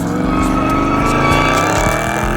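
A Chrysler 300 SRT sliding with its tires squealing, the engine roaring steadily and loud throughout, a continuous close skid with rising and falling engine harmonics.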